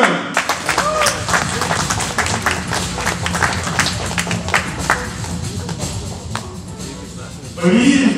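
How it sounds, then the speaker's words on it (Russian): Scattered clapping breaks out for a prize winner at the awards of a blue belt jiu-jitsu trial. Sharp individual claps sound over a roomy background, and a voice begins talking near the end. "Давайте вам аплодируем!"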